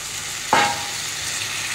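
Marinated mutton goes into a hot pan with a sudden loud sizzle that flares up, then settles quickly into a steady, softer frying hiss.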